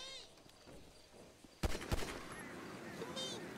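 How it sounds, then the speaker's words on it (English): Two sharp gunshots go off in quick succession in the GTA NoPixel roleplay game, loud and close against a quiet background hum. "Why does my gun shoot twice?"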